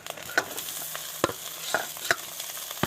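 Boiled potatoes stirred in a frying pan with egg, a soft continuous sizzle broken by several sharp spatula scrapes and clacks against the pan, close and alone.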